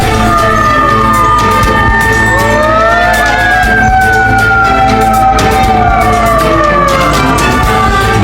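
Fire trucks race toward a burning food kiosk in central Garut, West Java, their loud wailing sirens rising and falling and overlapping close by, over a steady roar of engines and traffic.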